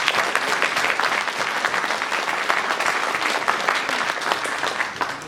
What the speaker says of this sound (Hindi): अपने लिए एक ताली हो जाए जोर से